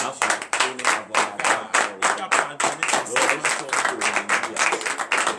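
A church congregation at a morning prayer service clapping in a fast, steady rhythm, loud and close, with voices shouting and acclaiming over the claps.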